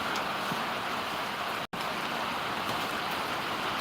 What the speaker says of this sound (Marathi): आमच्या इकडं खूप पाऊस चालू आहे बघू शकता तुम्ही जोरदार पाऊस चालू